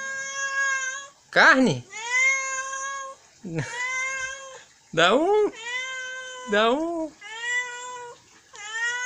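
A cat meows repeatedly in loud, drawn-out cries, with a person speaking between and over the calls.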